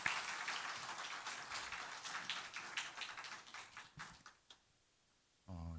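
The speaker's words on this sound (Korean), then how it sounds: "우리 박수 뜨겁게 하면서 모시겠습니다" Applause fills a church ordination service as the district superintendent is welcomed, a dense crowd of clapping hands that keeps a steady rhythm, thins toward the end and gives way to brief quiet.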